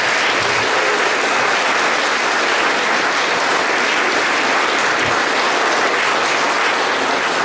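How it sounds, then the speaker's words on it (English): A crowd at an amateur art exhibition's awards ceremony gives a round of applause, a thick, continuous wash of clapping that stays loud and even from start to finish. "Let's give a round of applause"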